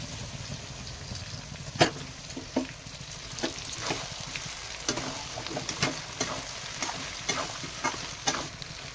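Duck meat curry with curry leaves and coconut milk frying in a pan: a soft, steady sizzle with scattered scraping taps of a stirring spoon, fairly faint throughout.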